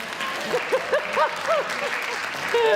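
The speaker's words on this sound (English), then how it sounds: "let's applaud that" Steady crowd applause fills the background while voices call out over it in short rising cheers and whoops.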